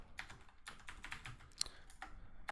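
Typing on a computer keyboard during a Python Django coding session: a rapid, uneven run of soft key clicks with a few sharper taps, quiet and close, with no voice over it.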